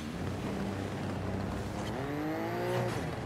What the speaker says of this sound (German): Täuscht das oder hört sich der Auspuff auf einmal anders an?